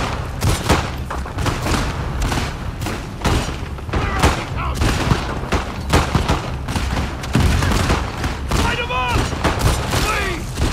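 Rapid gunfire in The Last of Us Part II, a long sustained fusillade of loud sharp shots and thuds in irregular bursts, with voices talking between them.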